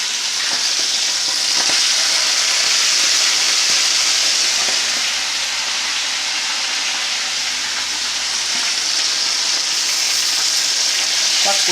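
Pieces of fish fry in hot oil, a loud dense crackling sizzle that runs steadily close by for the whole stretch with no speech.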